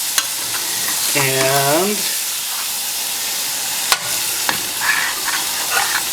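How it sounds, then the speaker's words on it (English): Beef stroganoff stirred in a frying pan as the bottom is deglazed, a soft scraping sizzle running through the clip with a brief spoken word and a short tonal sound near the start. "see if I can deglaze most of the bottom easily at this point"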